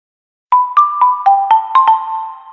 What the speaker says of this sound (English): That's the sound of Tulatero,